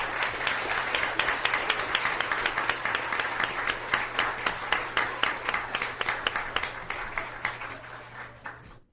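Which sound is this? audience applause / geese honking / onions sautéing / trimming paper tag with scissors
audience applause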